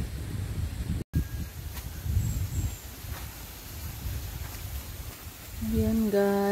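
Steady low wind rumble buffets the microphone throughout at a spot in Batangas, Philippines, with a brief dropout near the start and a faint tonal sound creeping in at the end.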